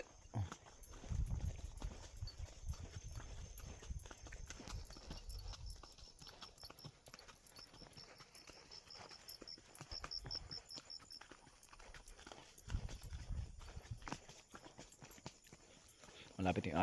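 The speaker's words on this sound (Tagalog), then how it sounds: "Itong kabayo na sinasakyan ko eh." Hooves of a ridden horse on a high mountain trail clip-clop in a steady walking rhythm throughout, close and moderately loud, with someone talking over the footfalls and outdoor background noise.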